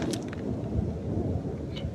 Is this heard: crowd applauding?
no